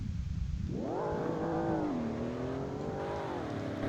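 Ford Fusion engine in the Roblox game Greenville revving up from idle, a close, steady rising drone that climbs, dips slightly and holds, with no talking.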